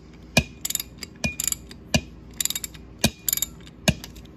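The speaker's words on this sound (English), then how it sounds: "we just need to tighten down this second nut on the valve stem to hold it in place" A ratchet driving a 12 mm deep socket tightens the valve stem nut on a Honda 185S three-wheeler tire, giving sharp close clicking ratchet strokes in repeated bursts with short pauses, no talking.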